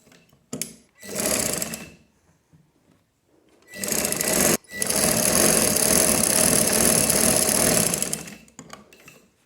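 A sewing machine stitching a sleeve onto a baby frock, running in two short bursts and then one long continuous whirring run, close and loud, with quiet gaps between.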